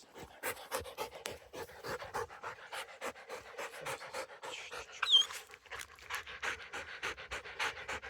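A shelter dog pants rapidly and steadily after running, close and fairly quiet, a long rhythmic string of short breaths with a brief whine midway.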